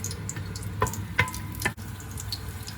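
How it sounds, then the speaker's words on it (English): Cinnamon stick and two bay leaves sizzling in hot oil while a salli boti curry is started: a steady soft frying hiss with a few brief clicks and a short gap near the end, no talking. "we'll add the cinnamon stick into the hot oil and the 2 bay leaves"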